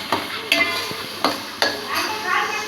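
Masala browned in a pan sizzles as tomatoes are added, with a spoon scraping and clinking against the pan in several distinct strokes over a steady frying hiss, close up.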